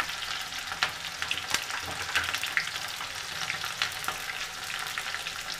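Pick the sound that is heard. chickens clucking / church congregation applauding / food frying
food frying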